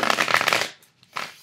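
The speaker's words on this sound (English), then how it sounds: "so demonstrating the shuffling of the cards down here" A thick tarot deck is shuffled up close, a dense papery riffle lasting about half a second, followed by a brief softer ruffle of cards.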